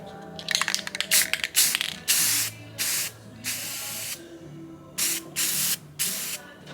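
Gray spray paint hisses from an aerosol can in short bursts, first rapid sputters and then several longer sprays separated by pauses, close to the microphone.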